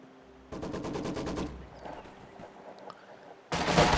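Machine gun fire in Company of Heroes 2 battle, a rapid one-second rattling burst of evenly spaced shots, then quieter distant battle noise before another loud burst erupts at the end.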